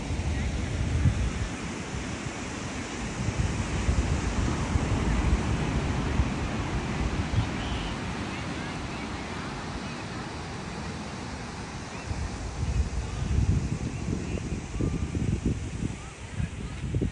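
Ocean waves roll in at a beach at Port Canaveral, a broad steady rushing wash mixed with heavy wind buffeting the microphone, loud and continuous with surges and lulls.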